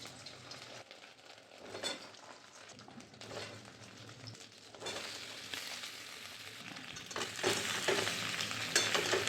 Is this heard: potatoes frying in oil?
yes